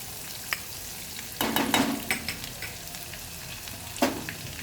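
About ten cloves of crushed garlic sizzle in hot oil in a pan for mula leaf sabji, with soft frying hiss and a few sharp bursts as the mixture is stirred, quiet and close, with no talking.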